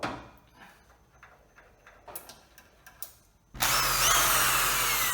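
A borrowed power drill bores bolt holes into an engine mount bracket on a Civic EG K-swap, starting after a few scattered clicks and taps and running loud and steady to the end.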